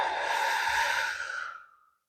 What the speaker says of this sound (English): let's do a nice deep breath in. And exhaling.